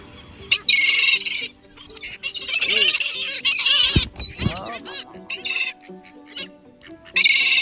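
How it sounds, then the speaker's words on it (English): Young seagulls by the water calling loudly, with repeated harsh squawks and screams that come in bursts and overlap one another, fairly close, with other bird chatter and brief background sounds between the calls. "The young seagulls really screams a lot."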